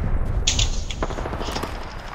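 Rapid automatic gunfire in a multiplayer military shooter video game, a dense burst of loud close shots followed by scattered single cracks and distant firing over low rumbling battlefield ambience.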